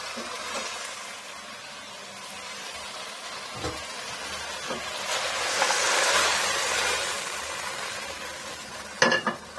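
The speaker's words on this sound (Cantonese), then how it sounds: "炒到啲牛肉同啲芹菜咧都熟啦" Beef and celery stir-fried over high heat in a wok, giving a steady moderate sizzle with scraping stir strokes, swelling in the middle and ending with a few sharp utensil clinks against the pan.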